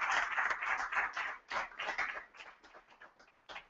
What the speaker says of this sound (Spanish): Así que un aplauso para Juan Manuel López Zafra